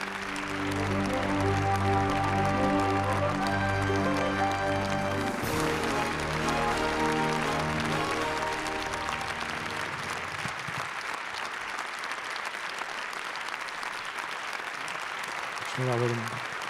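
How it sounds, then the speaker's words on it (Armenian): Warm applause at a national music award ceremony, with sustained clapping from a large audience filling the hall, loud and continuous over fading background music and stage sound, ending with a brief swell near the end. "Շնորհավոր ենք ջերմ ծափահարություններով։"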